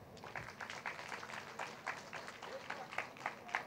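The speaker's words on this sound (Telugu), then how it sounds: "మనము వీరందరికీ గట్టి క్లాప్స్ అండి" An audience at a meditation gathering clapping, a fairly faint patter of many hands heard from a distance with a rhythmic, uneven texture.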